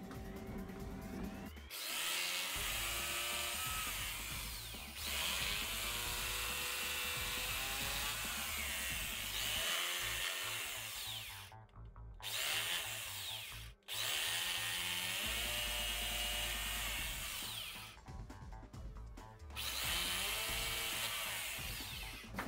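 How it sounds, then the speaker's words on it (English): A power drill bores holes in a wall to hang a bathroom mirror cabinet, its loud motor whining steadily and dipping in pitch as the bit bites, with brief pauses between holes. "Time to drill."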